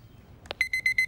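A small electronic beeper sounds a quick run of five high, even beeps in steady rhythm after a soft click, close and clear against a quiet room.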